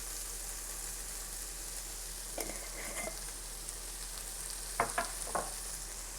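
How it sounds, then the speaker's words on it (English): Cumin, coriander and paprika toast in a hot pan for shakshuka, giving a faint steady sizzle with a few soft clicks of stirring toward the end. "I'm going to add in my spices too so they get nice and toasty"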